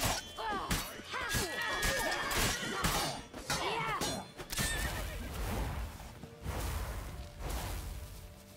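A horse neighs and whinnies repeatedly in the video game The Witcher 3, loud shrill calls mixed with crashing impacts and clattering, followed by a rougher burst of noise and action sounds.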